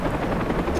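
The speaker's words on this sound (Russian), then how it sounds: "Так, где еще вертолеты?" Helicopter in the game Far Cry 3, a loud close rotor thudding in a brief rapid rhythmic chop with a heavy low rumble.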